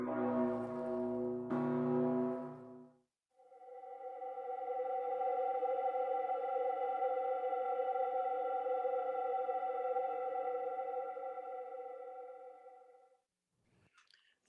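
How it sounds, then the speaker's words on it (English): A pale, ghost-like electronic transformation of a bell: a brief bell-like attack gives way to a long, smooth sustained hum of layered tones that swells and slowly fades over about ten seconds, with a faint click at the end. "the next sound is one of the many transformations of the bell that I created in working on this piece"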